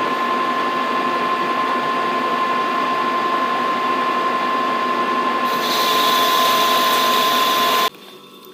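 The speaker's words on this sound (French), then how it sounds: "Perçage à 30." A machine drills a 30 mm hole while making a pinion blank for a Promecam RG 25 press brake, producing a steady whining motor hum with a brighter cutting hiss near the end before the drill stops abruptly.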